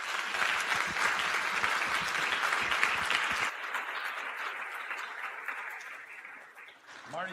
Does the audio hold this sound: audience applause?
yes